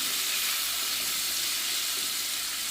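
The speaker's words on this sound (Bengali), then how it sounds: "দিয়ে আলুগুলোকে ভালো করে লাল লাল করে ভেজে নিতে হবে।" Potato pieces frying in hot oil with turmeric and salt make a steady, continuous sizzle close by, with no talk over it.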